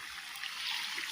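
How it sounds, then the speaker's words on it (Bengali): Gravy poured into egg curry simmering in a pan, a steady close trickle and splash of liquid lasting about a second, with no talking. "আর একটু ঝোল দিয়ে দিই।"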